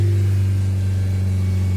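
A 2016 Honda Civic with a diesel particulate filter fault code P24A4 holds a steady 3000 rpm, giving a constant, loud, close engine drone with no speech.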